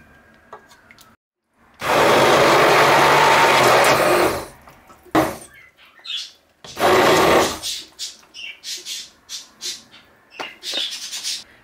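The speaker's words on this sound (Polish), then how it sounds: "użyjemy ręczny blender, żeby zmiksować zupę" A hand blender purées potato and leek soup in a pot with two loud, steady whirring bursts of a couple of seconds each, separated by short pauses and followed by softer clattering and splashes.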